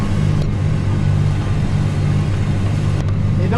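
Farm vehicle engine pulling off in gear across a dry field, a steady low mid-pitched rumble that holds loud and constant throughout.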